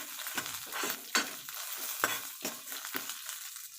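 Crackling frying of peanuts and tempering spices in a pan with repeated scraping strokes of a spatula at an uneven rhythm, close and moderately loud, no speech.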